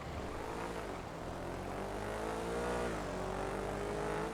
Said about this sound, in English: Here, I'll pull out a car.